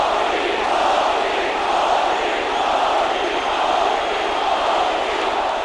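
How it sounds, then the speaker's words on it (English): A large crowd at a rally for the Indian prime minister in Houston roars in a dense, continuous wash of chanting and shouting, loud and unbroken throughout. "and the crowd chanting his name."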